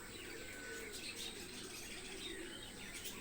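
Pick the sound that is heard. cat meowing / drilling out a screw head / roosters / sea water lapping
roosters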